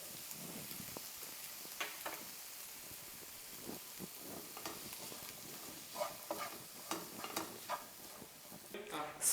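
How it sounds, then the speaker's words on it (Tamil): A spoon stirs sago sundal with pepper powder in a pan, giving repeated soft scraping and clinking strokes over a faint sizzle, quiet and close, with no talking. "இது எல்லாத்தையும் நல்லா மிக்ஸ் பண்ணிவிடுங்க."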